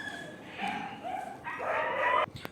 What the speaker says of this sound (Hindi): सॉरी, यहाँ पर कुत्ते की आवाज़ है